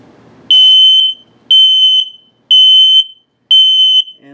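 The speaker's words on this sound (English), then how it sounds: "And low battery alert." Low battery alert from an RV LP and carbon monoxide detector in a 2022 Mesa Ridge 373RBS: four loud, piercing electronic beeps, each about half a second long, evenly spaced a second apart, with near silence between them.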